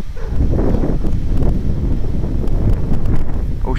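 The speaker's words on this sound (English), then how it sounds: "I don't even know which way the wind's blowing." Strong wind buffets the microphone in a continuous loud roar with rustling gusts throughout and no voices.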